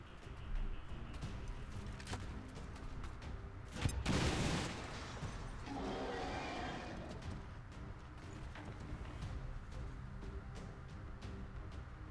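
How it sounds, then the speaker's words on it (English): A grenade blast in the video game XCOM 2 brings down a tower: a sudden loud explosion midway with a crumbling, debris-filled tail, set among faint game sounds and clicks. "Let's try to just blow this tower down. Grenade out."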